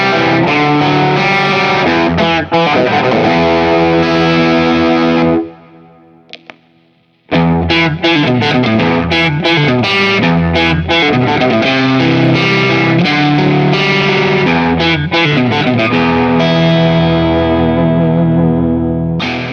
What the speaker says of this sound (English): let's dial the gain down just a hair and go to more of like a classic rock tone